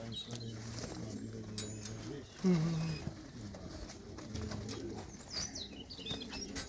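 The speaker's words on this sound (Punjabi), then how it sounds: "ਲਾਜਵਾਬ ਪਰਿੰਦਾ ਬਹੁਤ ਹੀ ਸੋਹਣਾ" Pigeons at a pigeon club coo softly with low, rolling notes alongside chirps and bird noise, while someone talks over them.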